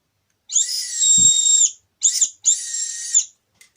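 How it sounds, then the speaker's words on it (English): A shrill Power Rangers Wild Force Lunar Flute toy whistle is blown three times, one long breathy blast followed by two shorter ones, loud and close with silence between. "If you blow into this here, it will actually make like a whistle sound."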